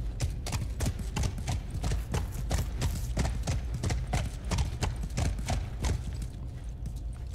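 Horse hooves clip-clop at a steady walking pace in the video game The Last of Us, an even run of soft, fairly quiet hoof strikes with no talk over them.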